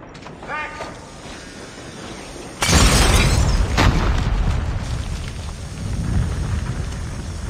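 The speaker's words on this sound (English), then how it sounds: "Grenade out!" A grenade explodes in Call of Duty Mobile with a sudden loud, broadband blast and shattering crack, then rumbling debris and a fading roar that lingers for several seconds.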